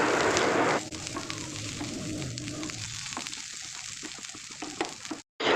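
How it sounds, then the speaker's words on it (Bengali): Neem leaves fry in oil in a pan over a low flame, giving a steady close crackling sizzle that softens after the first second. A few light stirring clicks follow, and it cuts briefly to silence near the end. "নিম পাতাটাকে পুরো মচমচে হওয়া পর্যন্ত ভাজা করে নেব"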